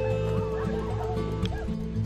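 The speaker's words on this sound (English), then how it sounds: "Here's a chicken." A chicken clucks close by at an animal farm with alpacas, a run of short, loud, rhythmic calls heard alone without talk.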